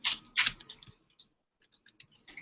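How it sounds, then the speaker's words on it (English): An arrow key on a computer keyboard is pressed with a few sharp, close plastic clicks, some in quick pairs, separated by a brief silent gap. "You just hit the right arrow key on the keyboard"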